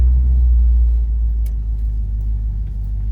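A 1967 Chevrolet Impala drives along with a deep, steady engine rumble heard from close up, loud and continuous with no talking.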